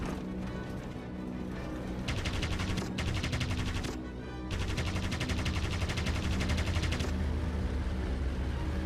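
A Vickers machine gun in a flight combat game fires in long, rapid bursts of sharp, dense rattling. The bursts are broken by brief pauses, sit close and loud, and play over background noise with no talk.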